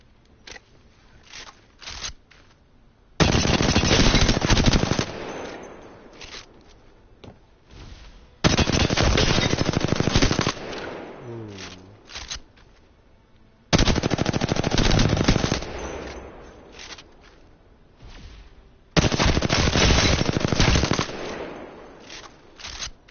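A light-ammo gun in Apex Legends fires at a training dummy in four loud automatic bursts, each lasting about two seconds, separated by quieter gaps with faint clicks and brief talk.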